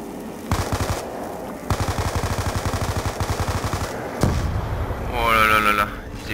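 Rapid automatic gunfire from shooting zombies in Call of Duty Black Ops 2 zombie mode, dense bursts of loud shots filling most of the moment, with a heavier blast and rising game effects near the end.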